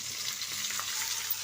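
Green chillies and curry leaves fry in a pan with a soft, even crackling sizzle, quiet and steady throughout a short stretch with no voices.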